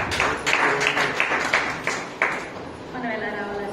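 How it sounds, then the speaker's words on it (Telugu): A congregation at a Sunday church service claps in a run of sharp, evenly spaced hand claps, fairly loud and near, then fades as a voice speaks over a faint tone. "చప్పట్లు కొట్టండి."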